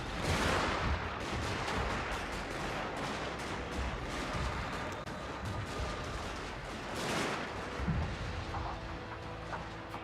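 Dense artillery shrapnel fire and musket volleys roar continuously through a Shogun 2: Fall of the Samurai battle, a loud unbroken barrage of overlapping booms and crackling gunfire with swells of intensity.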